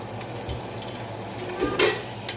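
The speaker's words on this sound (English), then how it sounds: "See, this is all I'm doing, stirring it around." Vegetables sauté in a pot while a utensil stirs them, giving a steady close sizzle with soft scraping and a brief louder clatter of stirring near the end, with no talking.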